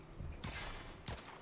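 Pistol gunfire in the Warframe video game, two distinct shots about half a second apart, each a quick broadband crack with a short tail, fairly faint and without talk.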